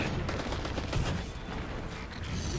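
Dense, continuous gunfire from the Destiny 2 video game, a steady rattling barrage that fills the short stretch without any voices.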